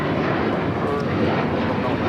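A United Airlines Boeing 737-900ER airliner takes off at LAX, a steady, loud broadband engine roar filling the whole stretch with no breaks.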